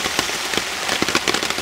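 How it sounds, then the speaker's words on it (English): Rain falls steadily during a bicycle tour in France, a dense patter with scattered sharper drop clicks against a surface, close and fairly loud with no talking. "I'm just waiting for the rain to stop"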